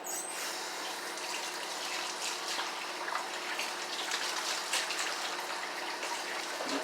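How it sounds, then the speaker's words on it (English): Tap water running steadily while hands are washed in a kitchen during cabbage roll preparation, a continuous close hiss with faint splashing and no talking. "let me wash my hands."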